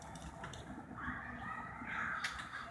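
A crow caws a few times at a moderate distance over a low, steady outdoor background.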